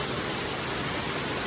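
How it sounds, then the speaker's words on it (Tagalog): Rain falls steadily during a drive in northern Ilocos, a dense, even hiss of drops with no talk. "medyo maulan ngayon eh"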